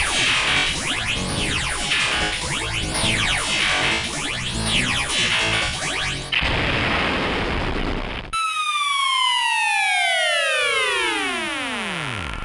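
A wailing siren sweeps up and down in repeated loud cycles, then shifts to a harsh steady burst and a falling electronic whoosh of descending tones, continuous and close.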